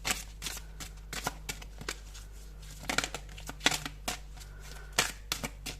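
Tarot cards are shuffled and handled close up in a quiet room, giving a series of crisp flicking and riffling bursts in irregular clusters.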